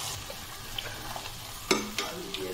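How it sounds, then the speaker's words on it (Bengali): Spice paste frying over medium heat in a pan for pasta gives a soft, steady sizzle with a few sharp scrape and stir clicks close by, and no talking. "এইবারে মিডিয়াম হিটে রেখে আমি এটাকে 3 থেকে 4 মিনিট প্রথমে একটু ভাজা ভাজা করে নেব"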